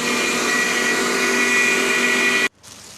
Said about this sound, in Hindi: अब मैं इसको चॉपर में डाल के पीस लूँगी, बारीक पीस लूँगी।